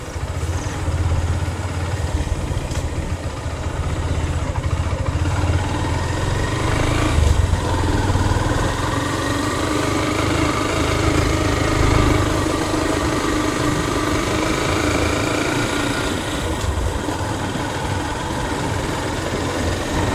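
Motorcycle engine labouring up a hilly road near a small village, a continuous mid-pitched drone with slight surges and shifts in revs, close and loud, no voices over it.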